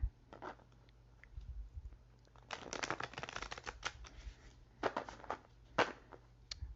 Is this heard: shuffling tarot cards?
yes